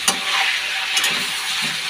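Meat sizzles steadily in a hot pan while being stirred, with a few sharp scraping stir strokes cutting through the constant crackling fry.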